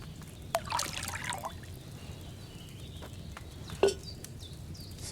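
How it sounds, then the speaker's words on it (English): Wine trickles and splashes into a cauldron in Kingdom Come Deliverance 2, a thin pouring dribble with a few sharp clinks and drips, fairly close and quiet with no talking. "So, what did you pour in there? Wine, of course."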